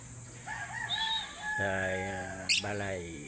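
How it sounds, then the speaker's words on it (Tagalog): Mario's African bird, kept at home, gives a few short calls, then a loud, drawn-out crowing cry close by, ending with a sharp squawk. "Yan na naman ang ibon ni Mario."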